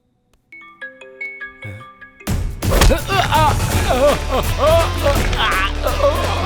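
A phone rings unanswered, a few short electronic ringtone beeps that repeat sparsely over quiet. After that, loud voices and a dramatic film soundtrack take over and bury any further ringing.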